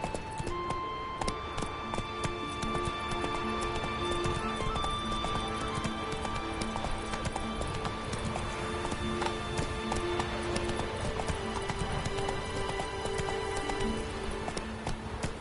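Roach, the horse in The Witcher 3, gallops with a steady, continuous clip-clop of hooves, close and loud, over a dense bed of game music, with a brief whinny.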